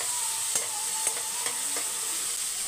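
Onions sizzle steadily in a hot pan with curry leaves and mustard seeds, with a few soft scraping clinks as a spoon stirs them.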